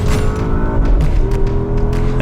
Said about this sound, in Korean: 벌써 엔진 소리가 비범해요 이 차는.